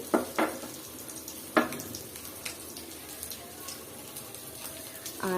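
Washed, pre-fried mung dal goes into a pan of sizzling spice masala, giving a steady frying hiss with a few sharp clatters and stirring scrapes, close and moderately quiet.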